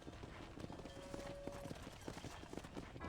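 Horse hooves clip-clop in a Red Dead Redemption ranch scene, a steady run of fairly faint, evenly spaced hoof beats under continuous game background sound.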